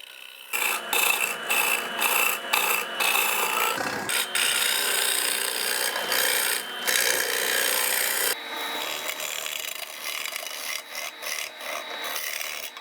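A woodturning tool cuts into a spinning wooden potpourri pot on a lathe, giving a close, raspy shearing that comes in repeated bursts with brief pauses, then settles into lighter, quieter passes, with no voices.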